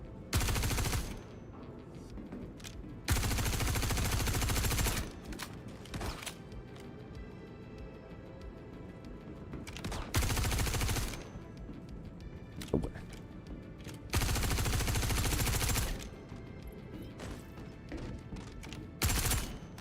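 Machine gun fire in Star Citizen, a run of loud sustained bursts broken by short pauses between them, with quieter game sounds in the gaps.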